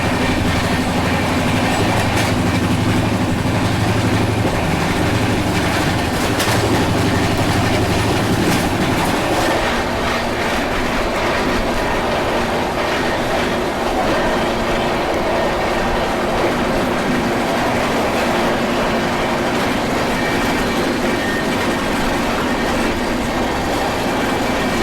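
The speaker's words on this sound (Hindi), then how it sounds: "ट्रेन जो है वो क्रॉल कर रही है और कारण पता नहीं क्या है।" Sampark Kranti Express rolling slowly along the rails, a steady rumble of wheels and carriage noise with clickety-clack joints and faint squeals, continuous and close throughout, with no talk.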